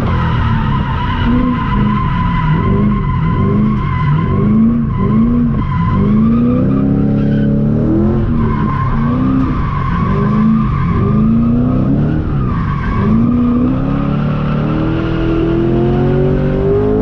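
A car drifting at a drift event on bald tires, loud close engine revving mixed with long wavering tire squeals and skidding that rise and fall continuously, no talking.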